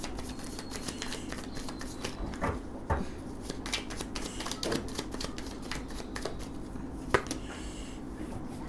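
Tarot cards are shuffled in quiet, repeated soft riffles and flicking snaps, with a faint low hum running underneath.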